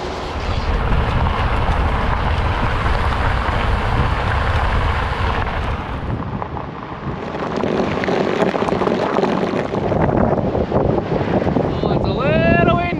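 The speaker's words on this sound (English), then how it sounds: "Oh, it's a little windy." Strong wind buffets the microphone in a constant heavy rumble, easing briefly midway before gusting hard again.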